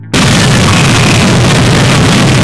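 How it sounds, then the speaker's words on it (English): A loud, sustained blast of broadband rumble that starts abruptly and holds for about two seconds before cutting off, dense low-end roar with crackling noise throughout, close and alone without talk. "I gotta have a good explosion."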